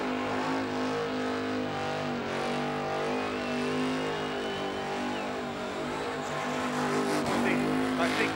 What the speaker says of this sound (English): Oh, it doesn't mind giving it a rev either.